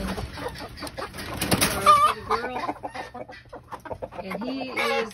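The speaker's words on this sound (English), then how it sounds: "there is my big rooster" Chickens, including a large Barred Rock rooster, cluck and murmur close by in short, irregular bursts, with a few higher squawks mixed in and no talking.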